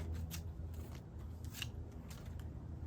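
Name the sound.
scissors trimming palm fronds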